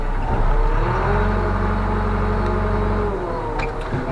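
A tractor engine with a 4-speed synchro shift transmission running steadily and loud through its gears, with a constant humming drone that dips slightly near the end.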